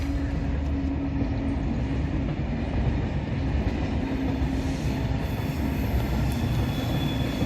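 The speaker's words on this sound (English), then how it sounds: "Didn't realise the train was so loud when it goes past." A train passes close by, loud and sustained, with a steady rumbling roar of wheels on rails and a faint high squeal over the top, and no talking.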